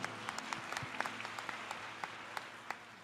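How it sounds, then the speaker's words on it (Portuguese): Scattered applause from a church congregation, individual claps sounding sparse and fairly quiet for about three seconds. "Vamos dar uma salva de palmas bem forte para Jesus."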